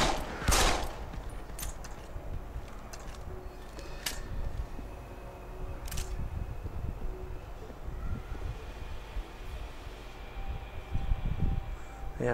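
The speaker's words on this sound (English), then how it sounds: "I don't like that little machine pistol at all" Gunfire from a small, inaccurate machine pistol in the video game Deus Ex: Human Revolution, with scattered shots and short bursts over a steady windy game backdrop.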